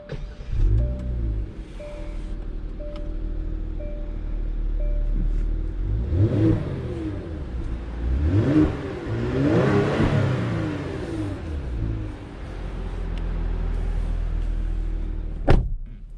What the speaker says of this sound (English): let's go ahead and take this G70 on a test drive